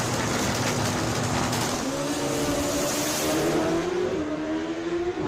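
Pro Street drag racing cars launch down the track, their engines roaring loudly and climbing in pitch as they pull away.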